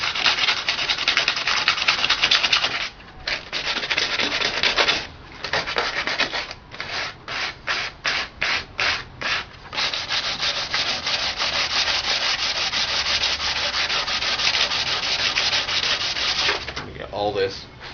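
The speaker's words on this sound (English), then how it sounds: "Sandpaper around that place to take all the paint out, to have better adhesion for all the body color around." Sandpaper rubbed by hand over the painted rear body panel of a Lotus Elise to strip paint, a continuous close scratchy rasp with a run of short rhythmic strokes in the middle.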